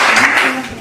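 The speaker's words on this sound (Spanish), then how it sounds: "Dale un fuerte el aplauso al Señor" A church congregation at an anniversary service applauds in a brief, dense burst of many hands clapping together.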